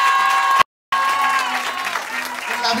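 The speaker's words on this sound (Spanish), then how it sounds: "los cuales les pido un fuerte aplauso para ellos" Audience giving a strong round of applause at a celebration honoring a young woman, loud clapping briefly cut by a short silent gap, with tonal sounds or voices layered over it.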